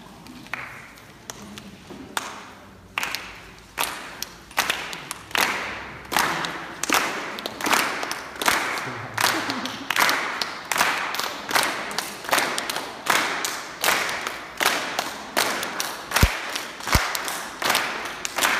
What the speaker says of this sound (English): we can clap and make a rhythm so that it really is like a song